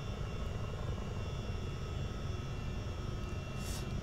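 Steady, continuous rotor and turbine drone of a CH-47D Chinook tandem-rotor helicopter in a flight simulator, holding a constant low rumble with a whining engine tone on top throughout, with no talk.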